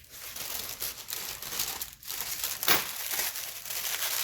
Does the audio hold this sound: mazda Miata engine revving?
no